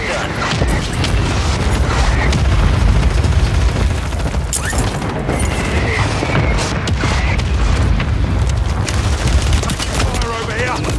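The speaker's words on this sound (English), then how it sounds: "Friendly mortar strike on the way." Mortar strike explosions in Warzone 3, heavy booms and rumbling blasts layered with scattered gunfire in a dense, loud battlefield mix, with game voice callouts underneath.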